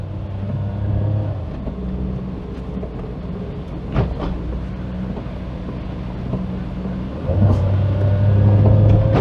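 A Daihatsu Sirion's automatic gearbox kicks down into first on a street, the small engine droning steadily with a clunk midway, then rising louder into a stronger humming rev near the end.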